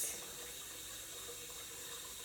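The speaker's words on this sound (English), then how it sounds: "I'll just keep adding cold water" Cold water pours steadily into a kombucha jar, a soft continuous splashing hiss heard alone.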